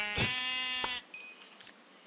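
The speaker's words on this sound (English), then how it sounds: "I'm gonna go kill the sheep real quick before it gets away" Two sheep bleats in Minecraft, the first long and wavering and the second shorter, both close and clear, followed by faint quiet game ambience.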